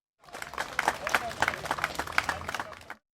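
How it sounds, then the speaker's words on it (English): Audience applause at a web development talk, a brief burst of many hands clapping that rises quickly, holds steady for a few seconds, then stops, fairly near and moderately loud, with some murmured voices mixed in. "ladies and gentlemen, a round of applause. Dr. Melody White, everybody."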